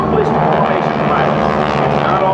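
GEICO Skytypers World War II aircraft flying at the AirPower Over Hampton Roads air show in 2008, a loud steady propeller engine drone that fills the whole moment, with someone narrating over it.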